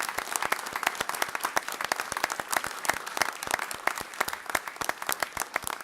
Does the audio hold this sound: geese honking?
no